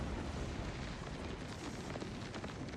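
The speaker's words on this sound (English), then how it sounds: "Everything will explode all around me here." Sigil stone explosion closing an Oblivion gate in Elder Scrolls IV: Oblivion Remastered, a dense continuous roaring blast rumble filling the whole stretch, loud and steady with crackling bursts throughout.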